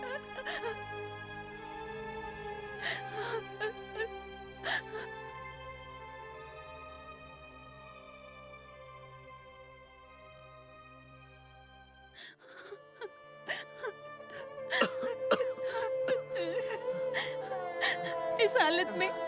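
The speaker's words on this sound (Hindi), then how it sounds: "तुम रो रही हो?" A woman in a Hindi-dubbed action romance film cries and whimpers with shaky, wavering sobs and sharp gasps, over a sustained musical score that swells louder in the second half.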